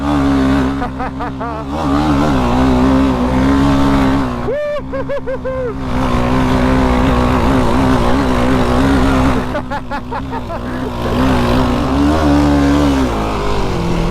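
A torquey Yamaha Raptor sport ATV revs hard to high RPM, a loud, continuous engine roar that rises and falls through gear changes, close by, with brief dips between pulls and no talk.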